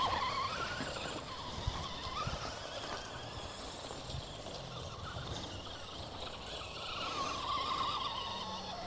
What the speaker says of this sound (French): l'avantage du 4 roues motrices, c'est que ça glisse